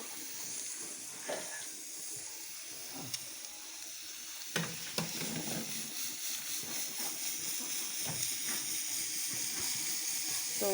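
Dhenki greens with chopped ginger going into a hot pan of oil, giving a soft steady sizzle and hiss with scattered crackles and stirring scrapes, faint and close.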